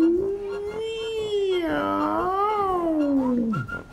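A voice imitates a cat's meow in a French children's story, drawing out one long, sliding, wavering call with a rise in the middle and a falling end, clear and close.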